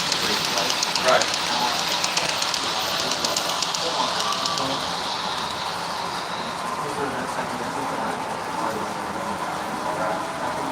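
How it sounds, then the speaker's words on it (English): A short CSX model train runs down a mountain grade on a model railroad branch line at a fair, its faint rolling rumble and light clicking mixed into busy crowd chatter. "Here comes CSX coming down the mountain again on the branch line above."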